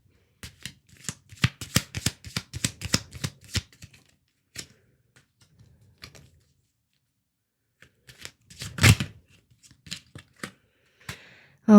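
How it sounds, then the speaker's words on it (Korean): Tarot cards shuffled and drawn by hand, with a dense run of quick, crisp riffling flicks for several seconds, then a pause and a few scattered slaps and snaps as cards are laid out, close and clear with no talk. "제가 추가 카드 더 뽑아 보겠습니다."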